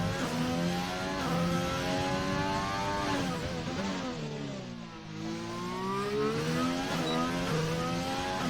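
A McLaren race car engine in a racing video game revs and shifts up and down through the gears, a loud close whine that dips briefly mid-run before climbing again.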